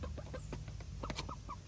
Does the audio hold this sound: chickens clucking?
yes